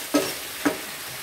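Beef and vegetables sizzling in a pan with a steady frying hiss and two sharp stirring scrapes, close by and without talk.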